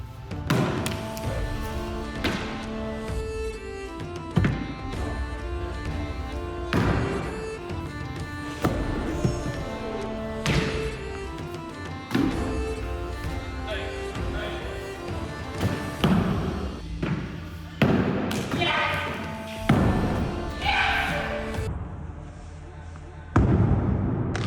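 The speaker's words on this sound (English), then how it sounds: "We each have 10 cannons, AKA tennis balls, to destroy each other's lovely castles." Tennis balls thrown as projectiles at toy castles land in a series of scattered thumps and clattering knocks, some sharp, some dull, repeated irregularly throughout while people talk over the impacts.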